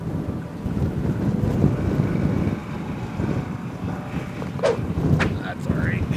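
Strong wind gusts across an open golf course and buffet the microphone in a continuous low, rumbling roar. A few brief faint higher sounds come through near the end.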